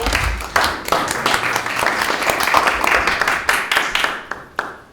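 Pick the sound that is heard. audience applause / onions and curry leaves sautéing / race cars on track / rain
audience applause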